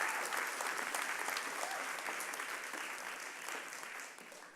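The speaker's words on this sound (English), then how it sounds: "So give yourself a clap" An audience claps together in sustained, dense applause that carries on steadily throughout and fades slightly at the very end.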